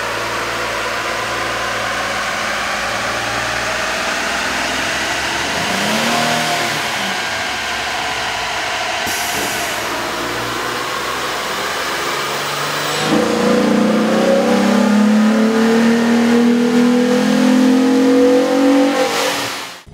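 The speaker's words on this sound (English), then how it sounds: "With the air intake installed, we ran the vehicle on the dyno to test the sound comparison versus the stock intake." A 2007 Jeep Wrangler's 3.8L engine with an aftermarket air intake runs on a dyno, a steady loud drone that climbs into a stronger, rising rev in the second half.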